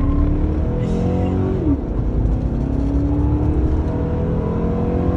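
A pickup truck accelerates hard through a timed pull at a truck meet, its engine note holding steady and rising slightly as it pulls, loud and close throughout, with a voice talking over it briefly.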